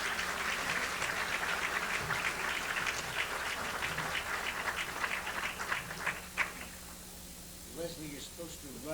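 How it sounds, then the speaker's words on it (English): Audience applause at an awards event honoring historymakers, a dense steady clapping from a large crowd that fills the hall, then thins toward the end as scattered claps and a few voices take over. "so that the applause does not die down"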